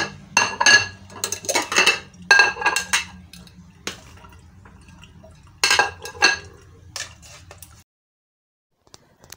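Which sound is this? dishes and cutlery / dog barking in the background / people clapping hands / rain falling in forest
dishes and cutlery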